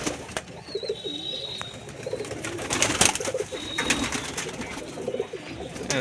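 A flock of Kalpetia pigeons coos steadily nearby, low rolling calls overlapping, with a few sharp chirps and flutters mixed in.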